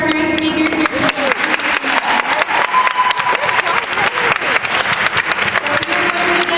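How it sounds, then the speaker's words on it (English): Audience applause for three speakers at a University of Guelph Relay for Life event, dense loud clapping from a crowd that carries throughout, with some voices and a cheer-like tone rising above it. "one more round of applause for our three speakers here today"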